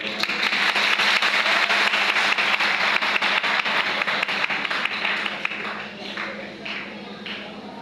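Audience at an Urdu poetry recital at a college gathering clapping steadily, dense sustained applause that gradually thins and fades toward the end.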